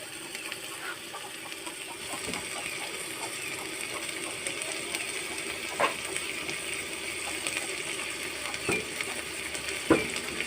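Red curry paste stir-fried with minced pork, long beans and young chilies in a Thai kitchen, a steady soft sizzle with scattered clinks of a spatula against the pan and occasional rooster calls in the background.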